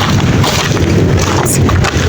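Strong wind buffets the microphone in a loud, continuous roaring rush, with no clear voices.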